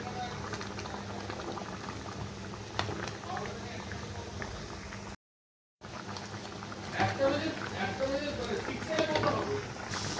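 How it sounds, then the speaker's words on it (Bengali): Pieces of firm pakal fish simmering in a boiling ginger-paste curry, a continuous close bubbling and popping broken by a brief silent gap midway, with faint background voices. "মাছটা দিয়ে খুব ভালো করে ফোটাতে হবে, যেহেতু মাছটা একটু শক্ত মাছ"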